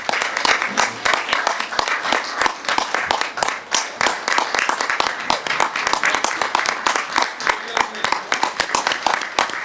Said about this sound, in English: Please, standing ovation.